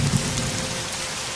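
Heavy cartoon rain pours down as a dense, loud, continuous hiss of a downpour, with no break across the moment.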